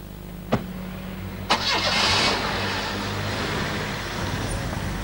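A Vauxhall Cavalier car's engine cranks after two sharp clicks, catches and settles into a steady mid-pitched idle, close and loud.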